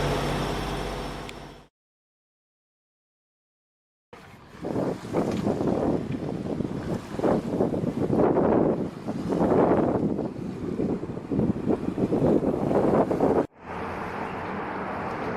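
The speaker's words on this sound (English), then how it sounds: "We're sailing under the William P. Lane Memorial Bridge, just coming into Annapolis" Sailboat heading toward Annapolis beneath the William P. Lane Memorial Bridge, with loud gusting wind buffeting the microphone and rushing water, broken by a brief silent gap and a sudden cut near the end.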